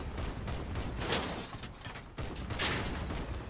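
Heavy gunfire striking an armored vehicle in the combat game Crossout, a dense continuous barrage of impacts and shots at close range with no pauses.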